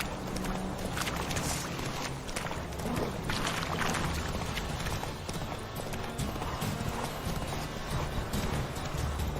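Roach, Geralt's horse in The Witcher 3, clip-clops steadily at a trot, the hoofbeats close and continuous over ambient game sound with no talking.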